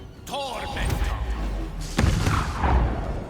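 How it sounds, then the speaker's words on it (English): A level 2 Magic Missile striking a Steel Watcher in Baldur's Gate 3, with a whooshing launch followed by thudding, booming impacts in two close bursts. "And now fire your level 2 magic missile into Steel Watcher"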